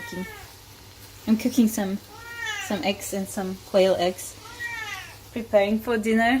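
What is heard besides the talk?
cats meowing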